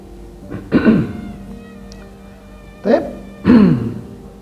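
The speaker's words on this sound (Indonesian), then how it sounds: "Batuk-batuk ya." Three separate coughs, close and fairly loud, spaced a few seconds apart over a low background hum.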